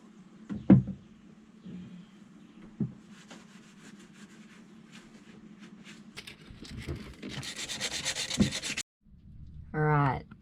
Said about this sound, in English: Then I'll just sand and we'll be well on our way